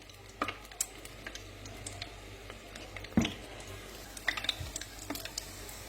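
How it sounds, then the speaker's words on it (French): Sicilian arancini fry in hot oil at 170 degrees, giving soft, scattered crackles and pops over a faint sizzling hiss, with a few sharper clicks and taps close by. "maintenant, on va le passer à la friture. Voici l'huile, il est très chaud. Je l'ai mis à 170 degrés et maintenant je les mets"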